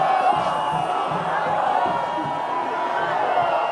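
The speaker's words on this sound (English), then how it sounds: "The crowd absolutely loving it" A beachside crowd at a professional surfing contest in Rio roars in a steady, distant wash of cheering and whoops, with a commentator's voice faintly underneath.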